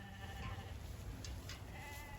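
Rams bleat on a farm on a snowy, rainy day, a few short calls heard over steady background noise with no talking.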